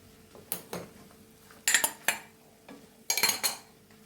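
A spatula scrapes and clatters against a metal pan in several short bursts, with quiet pauses between the strokes.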